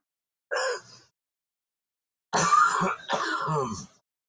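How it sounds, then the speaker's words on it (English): A short throat clear, then after a pause a rougher, longer bout of coughing and throat clearing, close and distinct with no talk. "You still got a little leftover cough there, don't you"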